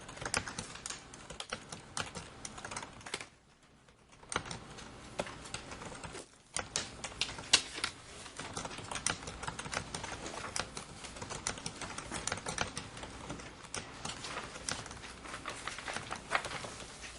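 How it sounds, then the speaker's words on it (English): Steady computer keyboard typing in a family courtroom, a fast continuous patter of keystrokes with a couple of brief pauses, close by and fairly quiet. "I'm typing the final order."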